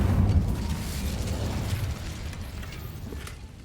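Incendio fire spell cast in Hogwarts Legacy, a booming burst of flame with a deep roar at the onset that settles into a crackling, steadily fading rush.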